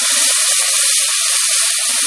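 A stew pan sizzles loudly as Yuengling lager is poured in to deglaze it, a dense steady hiss of boiling liquid and steam that holds through the clip with a few crackling pops.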